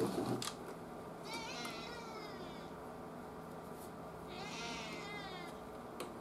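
A cat meows twice, a drawn-out call early on and a second one later, both faint and fairly close over a low room hum, with a few soft knocks in between.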